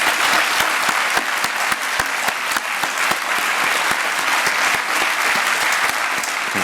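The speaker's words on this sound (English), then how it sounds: "giving a final round of applause to our 3 speakers" A conference audience at a lung health plenary gives its three speakers a sustained, even round of applause, dense clapping held at a steady level throughout.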